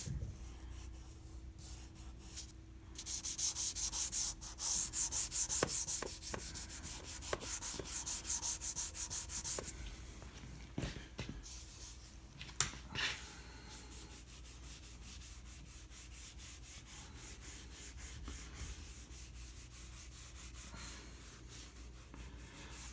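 Fingers rub oil into wooden trim, giving soft close-up swishing and rubbing strokes, louder in a burst early on, then quieter scratchy friction with occasional small taps.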